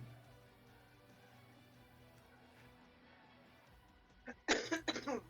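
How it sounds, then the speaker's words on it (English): A few coughs burst out near the end of a quiet cave scene in a Dungeons & Dragons 5e tabletop session, after a long stretch of low hum. "A cough in the distance."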